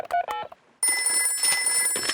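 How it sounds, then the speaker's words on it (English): A cartoon telephone call from Peppa Pig to Grandpa Pig: a few brief electronic tones, a short pause, then a steady, bright ringing tone that rings on for over a second, loud and close. "I'll phone Grandpa Pig."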